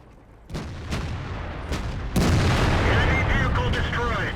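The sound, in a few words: tank cannon shot in World of Tanks video game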